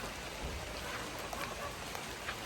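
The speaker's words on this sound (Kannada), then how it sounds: "ಸ್ವಲ್ಪ ತುಂತುರು ಮಳೆ" Light drizzle patters softly and steadily, a faint, even hiss of small drops with a few slightly louder taps, no voices.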